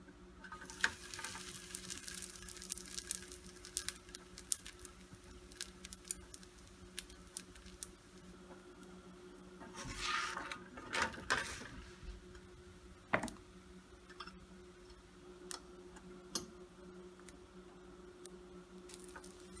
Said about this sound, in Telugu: గీతో వేయించుకోండి